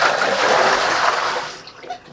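Small scallions are rinsed in water, giving a loud, close rush of running and sloshing water that fades away toward the end, with no talking.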